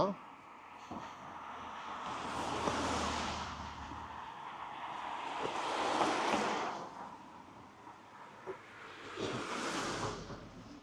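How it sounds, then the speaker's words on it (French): Cars passing by outdoors, three broad whooshes swelling and fading a few seconds apart, under a continuous voice speaking. "désolé pour les voitures"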